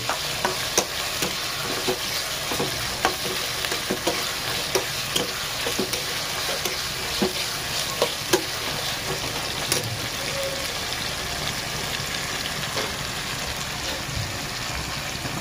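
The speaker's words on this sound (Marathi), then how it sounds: "मसाला हा चांगला एक जीव करून घेऊ." Masala frying and being stirred in a pan for Maharashtrian dry chicken: a constant loud sizzle with repeated scraping spoon strokes and clinks, close up and without voices.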